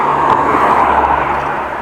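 A car drives past a cyclist on a city road in Groningen, Netherlands, a steady, loud engine and tyre rumble that stays close for a couple of seconds, then eases slightly.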